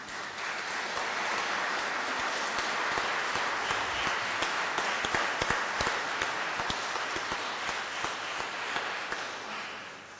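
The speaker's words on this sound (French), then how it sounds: "On peut applaudir le parrain et la marraine aussi." An audience applauds at a church bell blessing in Vendeville, a steady wash of many hands clapping for about ten seconds, moderately loud and continuous, with scattered sharper claps and no talk over it.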